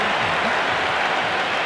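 A stadium crowd at an IPL cricket match between Mumbai Indians and Gujarat Titans roars and applauds after a six in a dense, loud burst that lasts under two seconds.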